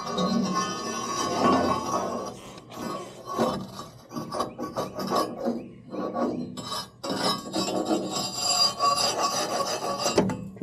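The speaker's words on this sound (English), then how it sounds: "Try to get a little scrape action going on here." Continuous rasping scrape of a tool run along the top of a surface, pushed to the back and pulled forward, with repeated strokes that rise and fall in loudness, close and steady for about ten seconds.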